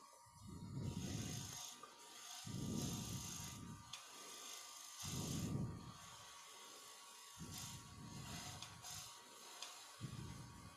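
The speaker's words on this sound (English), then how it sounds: "I'm using the spindle gouge more as a scraper here" Spindle gouge used as a scraper on end grain wood spinning on a lathe, quiet rhythmic rasping strokes every couple of seconds against a faint steady motor hum.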